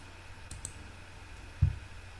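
Computer mouse clicking during work in Blender: a couple of faint, sharp clicks near the start, then one louder, close click, with no talking.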